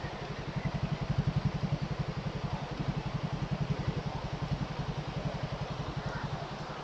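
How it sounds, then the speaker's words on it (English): A TVS XL100 moped engine idles right after a kick start, a steady rapid low putter with an even pulsing beat throughout, close and moderately quiet, no voices. "let's try to start the engine"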